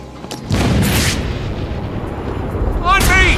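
A grenade goes off in Batman: Arkham City with a sudden loud blast and a rumbling tail, followed by a shouted voice over the continuing din.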